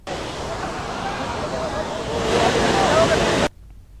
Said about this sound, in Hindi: आप देख सकते हैं किस तरीके से यहाँ पर नदी नाले उफान पर हैं